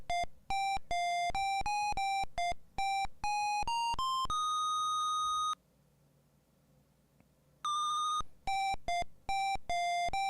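A DOS Wheel of Fortune computer game plays its theme tune as a beeping melody, a quick series of clear electronic tones with one long held note and a short pause before the beeps resume.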